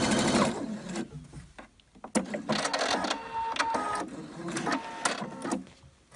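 A sewing machine stitches gathering threads on small baby bloomers, running in rapid mechanical bursts that stop and start, close and clear with no talk over it.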